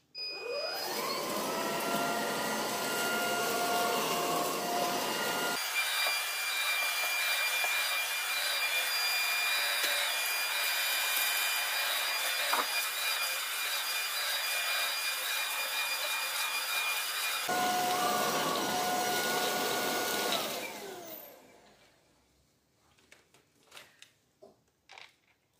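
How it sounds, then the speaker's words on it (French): An Ultenic U12 Vesla vacuum cleaner running indoors, a steady close whooshing hum whose pitch shifts as it moves over the floor, then switching off and leaving a few faint handling clicks. "on va venir aspirer et voir ce que ça donne."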